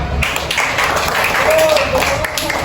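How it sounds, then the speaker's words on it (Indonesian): Elementary schoolchildren in a fourth-grade classroom clap together on cue, a busy patter of small hands with voices mixed in throughout. "Kasih tepuk tangan dulu"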